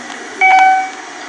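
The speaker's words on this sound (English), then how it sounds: "my voice recording an alarm audio in Roblox" A short electronic alarm beep from the Roblox video game, recorded from a device, sounds once as a brief bright tone lasting under half a second over a low steady hiss.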